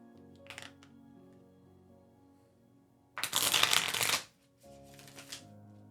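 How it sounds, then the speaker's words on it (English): Tarot cards shuffled by hand, a soft riffling and sliding that comes in short bursts, with one loud, dense burst in the middle, over a quiet steady hum. "I am shuffling away."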